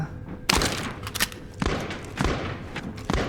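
Gunfire in Call of Duty Warzone training battle royale mode: a few sharp shots in separate bursts, moderately distant, with a faint voice underneath.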